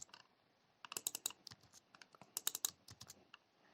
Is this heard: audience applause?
no